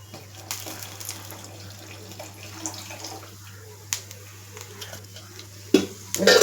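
Boiled milk, half a litre heated without added water, poured into a pot in a home kitchen, giving a soft, continuous liquid stream with a few louder splashes and clatters near the end.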